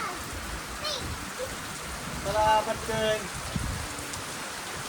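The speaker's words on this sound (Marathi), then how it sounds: "बरं झाला पाऊस आला नाही का." First rain of the season falling outdoors, a steady broadband patter of drops on surfaces throughout, with a child and others briefly speaking over it.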